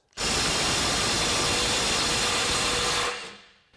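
A Milwaukee M18 compact impact wrench hammers continuously at 450 foot-pounds, giving a loud, dense, close rattling roar for about three seconds before it trails off quickly, with no talking over it.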